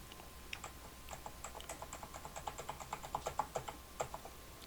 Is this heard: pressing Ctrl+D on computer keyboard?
yes